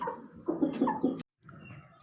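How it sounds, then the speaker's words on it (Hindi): An Aseel desi hen clucks on a Pakistani farm in a quick run of four or five close calls. A brief silence follows, then quieter farmyard ambience. "देसी मुर्गी है, असील नस्ल की।"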